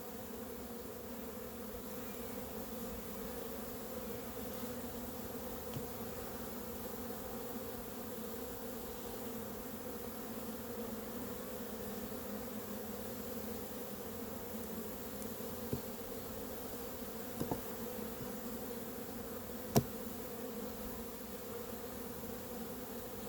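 Steady, dense hum of honey bees buzzing around a hive of captured swarms, continuous and fairly faint with a few soft clicks and knocks, no speech.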